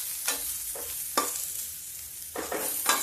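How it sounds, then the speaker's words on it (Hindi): Sliced onions sizzling in a little oil in a pan, with soft scraping strokes of a spoon stirring them at intervals, close and fairly quiet, no voices. "ये लच्छे में कटा हुआ प्याज थोड़ा फ्राई करेंगे, सुनहला सुनहला, जलने नहीं पाए"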